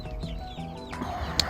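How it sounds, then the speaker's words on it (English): Chickens cluck and chirp softly nearby in short, irregular bursts, with a few sharper squawks over a low background hum. "we got the chickens out here"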